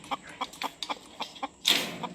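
Farm chickens cluck in a quick series of soft, evenly spaced clucks nearby, ending with a louder squawk.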